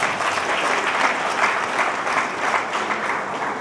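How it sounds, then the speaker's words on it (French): Steady applause from a sizeable crowd at a university awards ceremony, dense clapping that holds at an even level throughout with no speech on top. "Vous pouvez vous applaudir vous-même."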